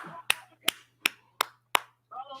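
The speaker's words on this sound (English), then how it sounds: "I'm not telling you what I'm clapping about" Five sharp hand claps at an even, steady pace, close and crisp, with a low hum underneath and a short burst of voice at the end.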